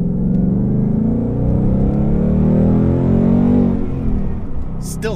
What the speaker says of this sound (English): Still love the way this car sounds,